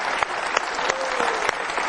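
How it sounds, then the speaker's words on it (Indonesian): Studio audience applause on an Indonesian television show, a dense burst of clapping from a crowd, loud and continuous throughout. "Kita berikan tepuk tangan."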